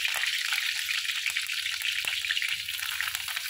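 Dal (varan) with fresh curry leaves cooks in a pot with a steady, close, hissing sizzle and a few faint low knocks beneath it, and no one speaking.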